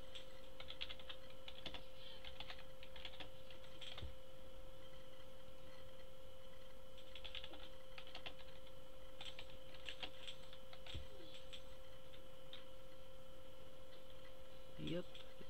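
A new password typed on a computer keyboard: faint, scattered keystroke clicks in short irregular bursts over a steady low electrical hum.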